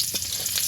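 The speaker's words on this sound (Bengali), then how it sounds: "এরপর গরম তেলের মধ্যে দিয়ে দেব রসুনের কোয়া" Garlic cloves drop into hot oil in a pan after prawns have been fried, giving a brief, close, crackling sizzle with a couple of sharper pops.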